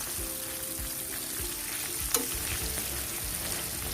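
Kentucky-style seasoned chicken frying in oil, a strong continuous sizzle and bubbling crackle with one sharper pop midway, close and steady with no talking.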